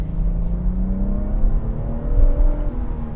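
A BMW M140i with 250 kW and 500 Nm of torque revs its engine, a deep rumbling note whose pitch climbs and settles across a few seconds, heard close with no talking.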